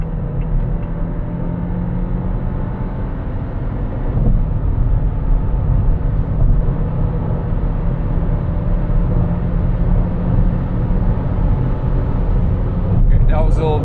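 A 2026 Geely Cityray with a 174 HP engine and seven-speed dual-clutch gearbox accelerates hard at full throttle on a night drive, its engine note steady and rising in the cabin, with a brief shift and no talk.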